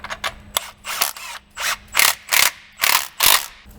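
A hand ratchet clicks through about eight quick bursts of strokes, loud and close, tightening a 13 mm bolt on a RAM TRX truck during a front suspension job, with no talk.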